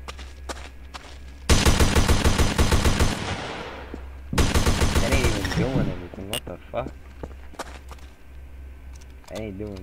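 Garry's Mod gunfire on a WWII roleplay server, two long rapid bursts of automatic fire, loud and close, followed by scattered single shots and a voice speaking.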